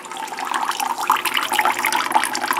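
Water from a hydroponic return line pours steadily through a grommet into a bucket, giving a continuous, close splashing and trickling rush with no pauses.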